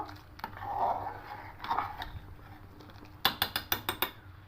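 Salt stirred into half-cooked rice in a pot for sweet zarda pulao, a soft scraping swirl early on, then a quick run of six sharp metallic clinks of a spoon against the pot near the end.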